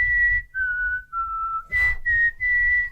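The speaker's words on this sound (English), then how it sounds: "He's a good whistler. Can you do the Jurassic Park one?" A man whistles a dramatic, sweeping movie theme melody, the Jurassic Park theme, in clear sustained notes across several phrases, close and fairly loud, with short pauses between phrases and a brief breathy burst midway.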